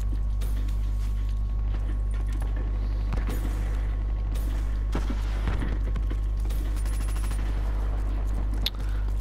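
Rapid bursts of HVK assault rifle fire in a shooter video game, several short volleys of automatic shots spread across the clip over a steady low hum, with a few sharper cracks near the end.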